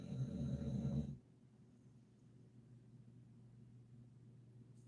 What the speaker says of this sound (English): all I can hear is snoring.